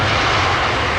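An airliner's jet engines roar loudly and steadily as it arrives on runway 27R at London Heathrow, a close, continuous rumble with no voices.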